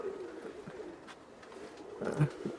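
Soft, low cooing of an old Rajshahi pigeon, faint and close, with a couple of clearer coos toward the end.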